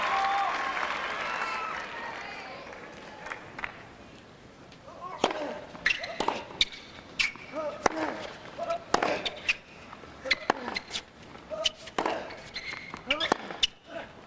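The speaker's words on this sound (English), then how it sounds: "Oh, listen to this crowd." Tennis crowd at the 2002 Los Angeles match between Gambill and Agassi: a roar of cheering that fades, followed by scattered sharp rallying hits and claps echoing through the stadium, with commentators talking over parts of it.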